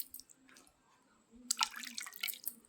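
Water is splashed onto the face by hand during a facial skincare routine: faint quiet drips at first, then a burst of close, bright splashing that carries on in uneven wet spurts.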